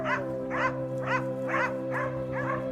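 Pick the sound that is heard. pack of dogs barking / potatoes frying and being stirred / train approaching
pack of dogs barking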